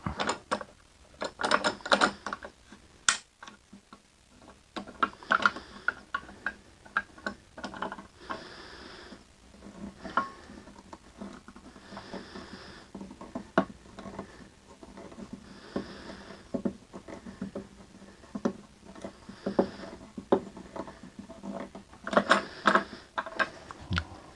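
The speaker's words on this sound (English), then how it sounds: "it is so long I have to readjust my clamp" A woodworking clamp is being readjusted. Close, irregular mechanical clicks and ratcheting bursts come and go, with brief scrapes and knocks between them, and no talking.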